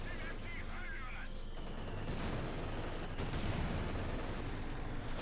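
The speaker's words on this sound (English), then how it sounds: "being cut to ribbons by the machine guns on the Panther" Machine gun fire from a Panther tank in Company of Heroes 2 rattles as continuous dense bursts amid battle noise, with a commentator talking over the gunfire throughout.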